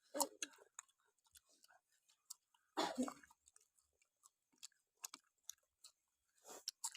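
Grilled squid dipped in spicy seafood sauce being chewed up close, with scattered soft wet bites and crunches in a quiet outdoor setting, one short louder burst in the middle.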